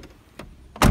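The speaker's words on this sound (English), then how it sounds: "let me shut these doors" Car doors being shut, a couple of light clicks and thuds followed by one loud, close, solid slam at the end.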